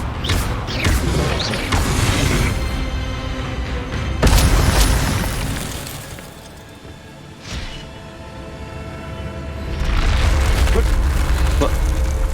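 The Incendio fire spell cast in Hogwarts Legacy, a loud roaring whoosh of flame with booming swells that rise, dip and surge again over a steady rumble.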